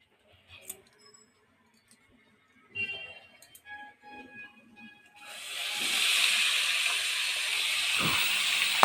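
Radhuni spice dropped into hot oil for frying bathua greens: a few scattered clinks and quiet kitchen knocks first, then a steady, bright sizzling hiss swells up and continues to the end.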